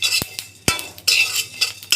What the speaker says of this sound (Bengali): চুলাটা হালকা করে রেখে 1 থেকে 2 মিনিট নেড়ে চেড়ে মশলাগুলো ভেজে নিব।